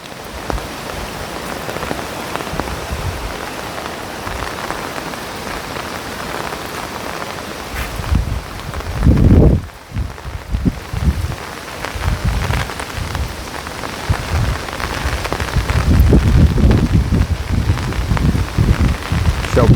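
Torrential rain and strong gusting wind batter an umbrella-sheltered spot on the Konkan coast during crab hunting, a loud continuous downpour with heavy rumbling gusts, one big buffet mid-way, and brief voices underneath.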